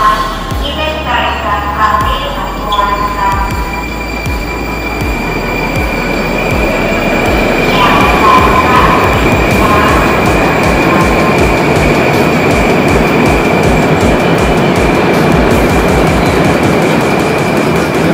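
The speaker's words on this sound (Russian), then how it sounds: "поезд один отправился без пассажиров" A metro train departs without passengers, its wheels squealing and rumbling as it gathers speed, with a steady high whine running over the loud, continuous noise.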